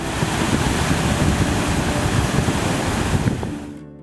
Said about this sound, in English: As incoming waves funnel seawater and air into the cave, pressure builds, culminating in an explosive geyser-like fountain.